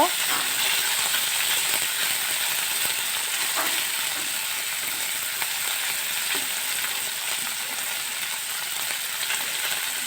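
Small fish frying in oil with ginger leaves while being stirred, giving a steady, even sizzle with occasional scraping of the stirring utensil, close and continuous with no talking.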